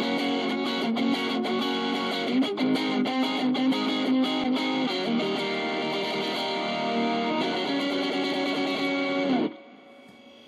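Electric guitar played through a distortion effect with gain and tone turned up gives a thick, saturated, sustained sound with chords and picked notes, loud and close, then cuts off abruptly into near silence.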